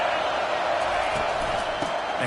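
A stadium crowd roars during a third-and-long defensive play in the NCAA 25 football video game, a dense sustained din of cheering under steady commentary.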